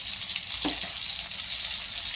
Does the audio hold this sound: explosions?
no